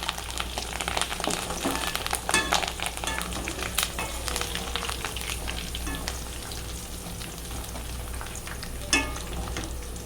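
Soya chunks with curry leaves deep-fry in hot oil for soya chunks 65, making a continuous busy crackling sizzle with scattered pops and occasional louder spatters, close and steady throughout.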